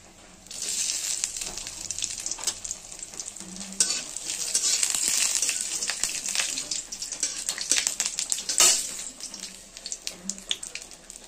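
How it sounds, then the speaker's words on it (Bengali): Chopped coconut frying in hot oil in a home kitchen, a steady close sizzle with crackling bursts and stirring clatter running throughout. "তেলটা গরম হয়ে গেছে, তেলের মধ্যে আমরা নারকেলের কুচোগুলো ছেড়ে দেবো"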